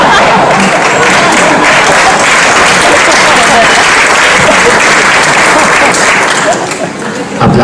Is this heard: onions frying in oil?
no